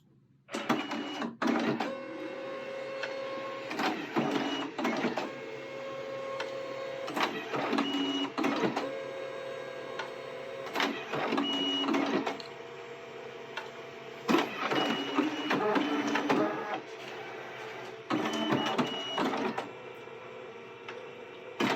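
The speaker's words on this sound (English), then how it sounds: "now it sends to the printer" A CardLogix desktop card printer prints and encodes a smart card, giving a steady run of mechanical whirring, clicking and feeding sounds with repeated motor bursts over about twenty seconds, close and fairly loud with no talking.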